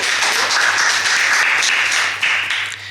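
Audience applause at an Indonesian stand-up comedy show, a steady wash of clapping that holds evenly for about three seconds and fades slightly at the end, with no voice over it.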